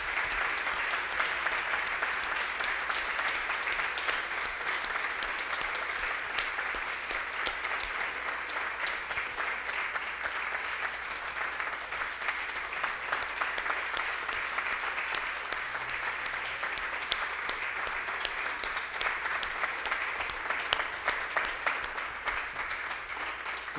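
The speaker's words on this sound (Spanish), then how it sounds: "Vamos a darle un fuerte aplauso a nuestro Dios entonces" A church congregation at a Sunday service applauds, a steady, even wash of many hands clapping at moderate distance, continuing without pause and with little talk.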